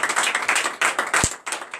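Congregation at a morning prayer service in Benin clapping in acclamation, a run of quick, dense claps with brief pauses, fairly close, with no speech over it.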